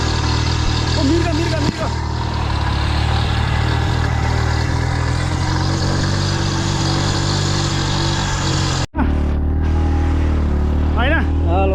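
A motorcycle carrying three riders grinds up an off-road track toward Serai Chuli hill in Chitwan, its engine droning loudly and steadily near the microphone with a brief cut-out, while voices talk over the ride.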